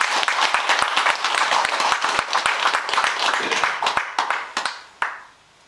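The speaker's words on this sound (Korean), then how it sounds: "큰 박수 좀 부탁드립니다" Sustained applause from a large crowd at a Buddhist monk's dharma talk, dense overlapping clapping that carries on steadily before thinning out near the end.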